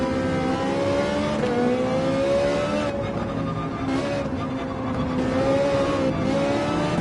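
A Ferrari race car in a racing video game holds a loud, steady engine drone as it slides and spins over candy-cane kerbs, the pitch dipping and rising slightly, alone with no voices.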